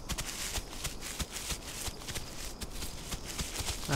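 Dinosaur footsteps from the survival game The Isle pound in a regular, close rhythm of dull thumps, with no talk over them.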